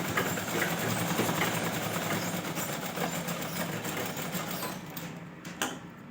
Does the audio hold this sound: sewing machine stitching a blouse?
yes